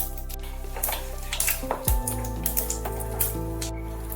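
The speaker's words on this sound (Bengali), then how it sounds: "এবার আমি এই তেলের মধ্যেই একটু সাদা তিল দিয়ে দিলাম ফোড়ন হিসাবে" White sesame seeds tossed into hot oil for tempering give a scattered crackle of small pops and sizzles, close, with a brief clatter from the pan partway through.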